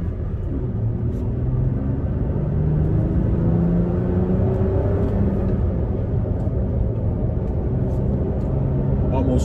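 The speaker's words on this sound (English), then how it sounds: "You can hear the engine kind of revving a little bit." Engine of a manual-transmission Toyota Tacoma revving while driving on an open road, a steady loud low rumble with rising pitch sweeps as it pulls through the gears, with a voice talking over it.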